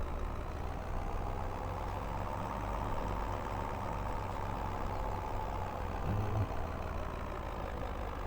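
A truck drives across a carrot field with a steady, low engine rumble that holds constant and moderately close throughout, with no talking.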